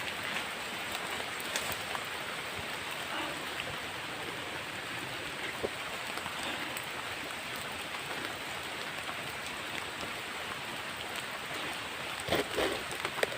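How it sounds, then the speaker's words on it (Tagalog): Heavy rain pours steadily on a rainy outdoor walk, a dense unbroken hiss of drops hitting surfaces close by, loud and constant throughout with no voices over it. "napakalakas ang ulan guys"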